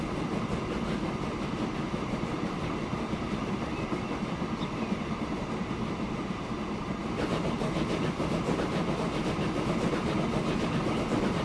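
A train rolls along the tracks in the Transport Fever video game on a UK and Ireland map, a steady rumbling rail sound with faint rhythmic clatter, continuous and moderately loud with no talk.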